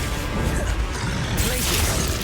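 Confringo explosive spell blasting in Hogwarts Legacy, a dense, continuous crashing roar of impact and debris that stays loud and close throughout the short burst of battle.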